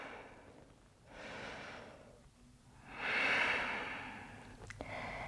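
Slow, deep breaths during a power yoga pose: two long broadband inhale-exhale swells, the second louder and rushing, followed by a short sharp sniff-like catch near the end, close and intimate with no talk.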